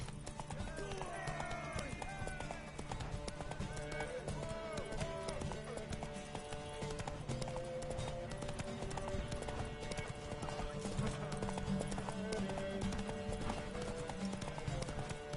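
Hooves clip-clop at a steady trotting rhythm over a busy The Witcher 3: Wild Hunt game soundtrack with music and effects, fairly quiet overall.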